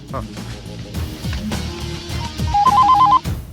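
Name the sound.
telephone ringing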